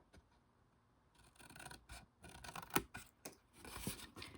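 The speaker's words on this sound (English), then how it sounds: "I just find it just as easy to use my scissors to cut them off." Close, quiet snipping and rasping as scissors cut through card stock for a double accordion gate fold card, several short irregular cuts with light paper rustle.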